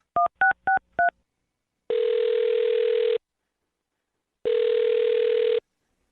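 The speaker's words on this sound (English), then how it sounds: "I'm going to dial her phone number right now" Four quick touch-tone beeps of a number being dialled on a phone, then two long ringback tones with silence between them, all clean and close with no voices.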